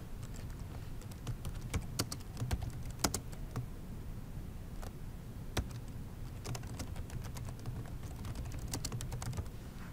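Someone types at a computer keyboard, producing a quiet, irregular patter of key clicks with occasional sharper taps over faint room hum.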